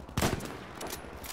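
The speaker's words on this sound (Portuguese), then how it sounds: "Machine gun." Machine gun fire in the World War II shooter Battlefield V, a sharp burst followed by scattered rattling shots with no talking.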